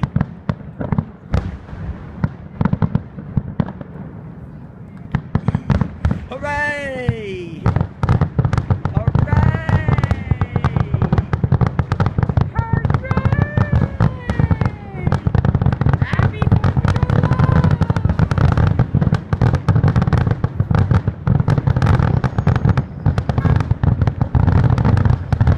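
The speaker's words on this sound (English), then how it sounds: "Fireworks is all done until" Fourth of July fireworks display at Delgrosso Park, Pennsylvania: a dense, continuous barrage of booms, crackles and whistling rockets fills the whole stretch, with a crowd cheering and talking faintly underneath.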